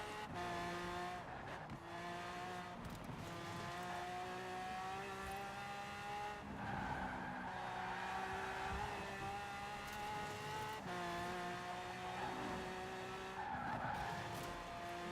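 A Mitsubishi car driving hard in a Forza racing game: a steady engine drone with rising and falling gear pitch and long stretches of tire squeal as the car skids through corners, continuous and fairly even in level.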